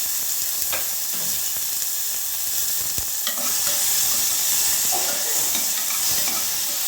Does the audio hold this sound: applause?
no